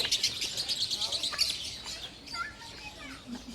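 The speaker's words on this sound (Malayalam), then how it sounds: "ഇതിനകത്തെല്ലാം ഉള്ളത് ചെറിയ തത്തമ്മാള കണക്കത്തെ സാധനങ്ങളാണ് കേട്ടോ" Small parrots in a zoo aviary in Riyadh chirp in rapid, high, overlapping bursts, busiest early on and then thinning to scattered calls.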